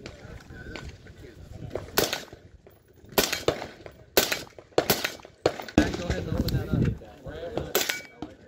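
Suppressed .223 rifle shots through an Inconel SPEED K suppressor at a shooting range, a string of sharp, fairly loud cracks fired singly and in quick pairs, with a murmur of voices between shots.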